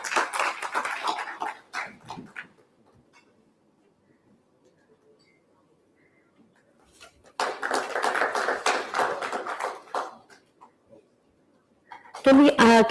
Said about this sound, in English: A huge round of applause for all our dignitaries